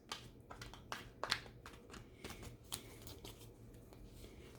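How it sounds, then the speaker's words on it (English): Quiet, close crisp snaps and riffles of tarot cards being shuffled, irregular flicks and taps, with no talking. "I'm shuffling them right now and doing your reading"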